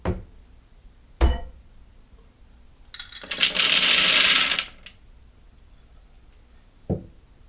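Roasted almonds pour into blender containers, a short rattling rush of nuts hitting plastic lasting about a second and a half, bracketed by a few sharp knocks and clunks of the containers, close and moderately loud.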